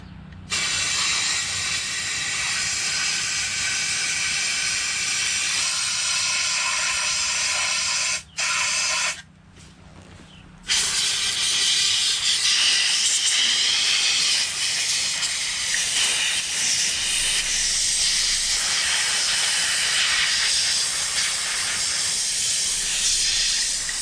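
An air compressor nozzle blasts air through an AR-15 9mm rifle during cleaning, making a loud, sustained hiss that briefly cuts out around the middle before resuming strongly, close up with no speech.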